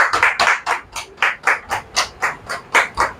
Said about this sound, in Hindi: कृपया सभी जोरदार तालियों से स्वागत करिए।